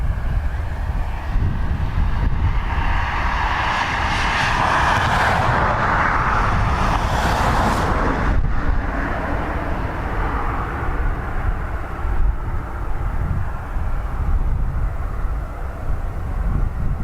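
An Antonov AN-26B turboprop departs Dublin Airport, heard as a steady, broad roar with wind buffeting the microphone, swelling at mid-clip then holding constant throughout.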